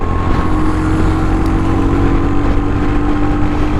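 A Royal Enfield Hunter 350 motorcycle accelerates hard on a highway, a loud, steady engine drone mixed with wind rush throughout, with no talking.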